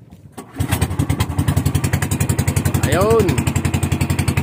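A motorcycle engine starts and settles into a loud, close, steady idle with a rapid pulsing beat, while someone speaks briefly over it.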